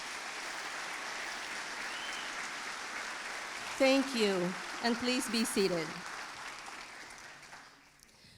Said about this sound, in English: Please join me in giving our platform party a warm round of applause